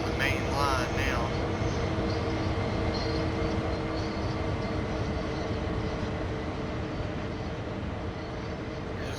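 Train running on the main line in the Train Sim World 5 simulator: a steady, continuous rumble of rolling wagons and locomotive with faint tonal hum, constant and fairly loud throughout, briefly layered with a short voice or tone near the start.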